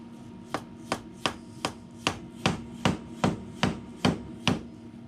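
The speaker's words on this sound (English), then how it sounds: "give it a little tap with the rubber mallet here" A rubber mallet taps a Yamaha ATV CV axle into place with about eleven dull, evenly spaced knocks, close and clear, repeating roughly twice per second with a faint steady hum behind.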